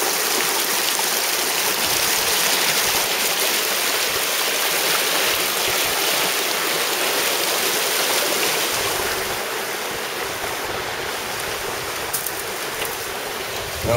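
Fossil Creek in Arizona flows with a steady, broad rushing of water, close and continuous for the whole stretch, easing slightly toward the end.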